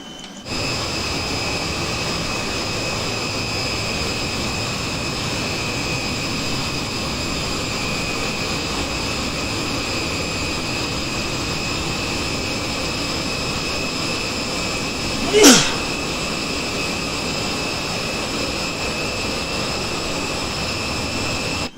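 Jet engines of an E-3 Sentry in Microsoft Flight Simulator 2020 hold a steady, droning roar with high whining tones, while a single brief swoosh passes midway through and no one speaks.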